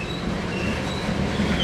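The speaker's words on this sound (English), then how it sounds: "It's a very slow moving train." Norfolk Southern freight train crawling slowly through Gallitzin tunnel, a steady close rumble of wagons with faint wheel squeal and no voices.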